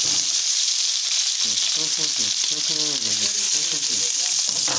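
Onions sizzle and fry hard in a home kitchen pan, a loud continuous crackling hiss, while someone talks over it.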